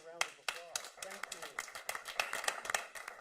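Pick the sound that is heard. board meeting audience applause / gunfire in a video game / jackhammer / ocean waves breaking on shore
board meeting audience applause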